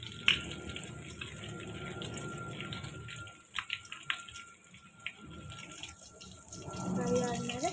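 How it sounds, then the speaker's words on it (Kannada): Cumin seeds and urad dal frying in hot oil in a home kitchen, a soft sizzle with scattered pops and crackles, fairly quiet, with clinks and kitchen handling noises and a brief voice. "ಎಣ್ಣೆಗೆ ಸ್ವಲ್ಪ ಜೀರಿಗೆ ಮತ್ತು ಉದ್ದಿನ ಬೇಳೆ ಹಾಕಿದ್ದೇನೆ. ಫ್ರೈ ಆಗ್ತಾ ಉಂಟು."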